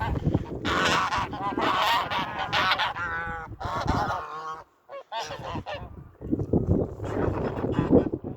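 Several geese honk loudly and repeatedly up close, overlapping calls with brief pauses, wind buffeting the microphone.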